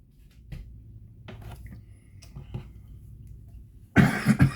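A man coughs several times from an allergy tickle in his throat, with soft isolated coughs early on and a louder cluster of close coughs at the end.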